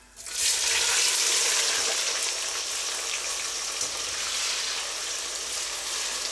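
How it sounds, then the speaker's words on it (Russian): Onions hit hot oil for plov and erupt into a loud, steady sizzle that continues throughout, with faint stirring clicks. "Теперь же в это раскаленное масло ложим наш, наш лук."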